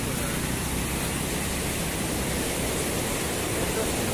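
Broad, continuous rushing of the Jaldhaka river near Jhalung by the Indo-Bhutan border fills the scene, an even, unbroken water roar at moderate level throughout.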